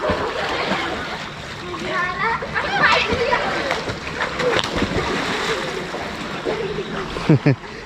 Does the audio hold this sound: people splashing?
yes